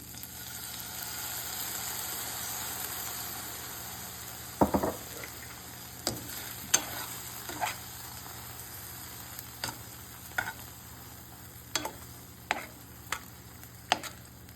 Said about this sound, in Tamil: இது இந்த உப்புலையும் லைட் சோயா சாஸ்லையும் கொஞ்சம் குக் ஆகட்டும்.